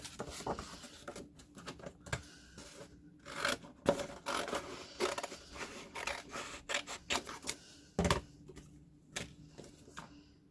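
Scissors cut a paper rectangle down to size for a spirit week hat, sounding as a string of short, quiet snips and rustles at close range with brief pauses in between, and no voices.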